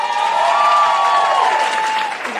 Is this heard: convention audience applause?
yes